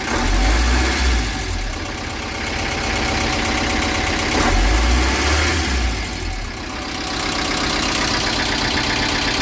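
A loud, unmuffled diesel engine with no engine cover idles steadily nearby, its low rumble swelling slightly at moments with a mechanical clatter over the top.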